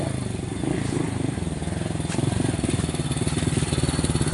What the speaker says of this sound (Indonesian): aduh dapat ada motor ya kesini ya.